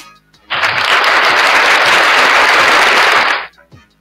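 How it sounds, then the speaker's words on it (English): Loud, close applause from a small gathering starts abruptly, holds as a dense even roar of clapping for about three seconds, then cuts off, with brief murmurs before and after. "Let's give an applause to the mother."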